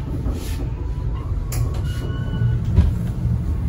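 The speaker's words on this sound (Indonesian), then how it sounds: "Nah, ini kita meninggalkan stasiun Wates." Train pulling out of Wates station in Indonesia, heard from inside the carriage: a steady low rumble of wheels and running gear with faint squeals and clanks rising over a few seconds, no voices.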